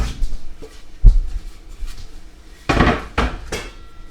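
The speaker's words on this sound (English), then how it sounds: "I will be using a chopping block," A wooden chopping block is fetched and set down in a home kitchen, giving a few scattered knocks and clatters followed by two heavier thuds near the end, close and fairly loud.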